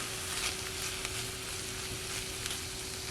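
Food sizzles steadily on the hot plates of a Dash egg bite maker running off a portable solar power station, with a soft, constant frying hiss and faint crackles throughout and no voices.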